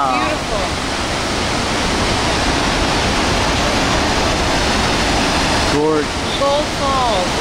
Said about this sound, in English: we're finally at Gulfoss Waterfall in Iceland